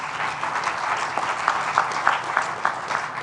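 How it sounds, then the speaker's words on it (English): Audience applause for a Columbus city council member at an outdoor IKEA store groundbreaking ceremony in Columbus, Ohio: steady dense clapping with a few sharper individual claps standing out, continuing throughout at moderate distance. "If we give him a round of applause."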